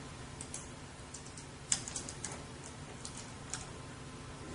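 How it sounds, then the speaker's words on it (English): A name is typed on a computer keyboard as a quick, irregular run of soft, close key clicks, with one sharper tap near the middle, over steady low background hiss. "And we type the name, Kevin, and we continue."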